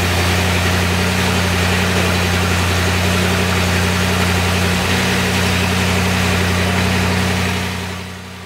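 A Cadillac V8 car engine idles steadily, a close, continuous hum with a low, even drone that fades away at the very end.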